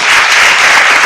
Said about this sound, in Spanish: Denle un aplauso a ese Cristo que vive para siempre.